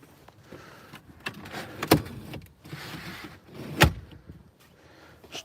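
A retractable rear window blind in a VW Golf 8 is pulled out by hand, giving two sharp mechanical snaps or clicks around a soft sliding rustle of fabric and trim inside the quiet car cabin.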